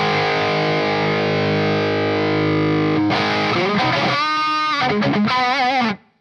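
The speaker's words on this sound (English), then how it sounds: "Plexi doesn't really add much volume, it just adds power tube saturation and preamp gain saturation" An electric guitar through a Marshall Plexi amp rings out with heavy distortion: a sustained chord, then bent, wavering lead notes before cutting off abruptly.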